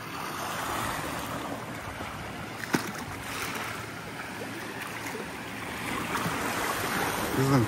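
Caspian Sea waves wash against the shore at Aktau, Kazakhstan, a continuous rushing surf mixed with wind noise, with one brief sharper splash partway through and a gradual swell in loudness toward the end, with no voices.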